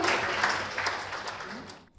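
Dense applause from a crowd at a grand final event in Sorong, steady and full, gradually tapering off at the end.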